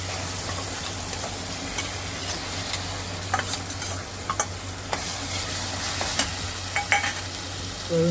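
Ground masala paste frying with tomato in a pan while being stirred, a continuous close sizzle broken by repeated sharp scrapes and taps of the spoon against the pan.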